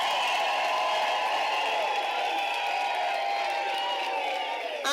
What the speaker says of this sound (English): May you please stand and let us give them a warm applause.